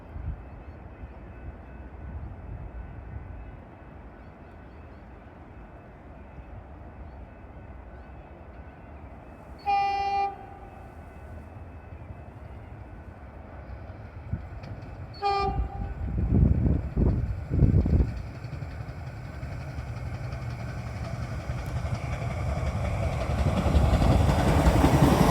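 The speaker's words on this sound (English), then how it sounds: "First up, we'll see a train pass by" A train rolls past on a rail line, a low rumbling that builds toward the end, with two short horn blasts partway through and no talking.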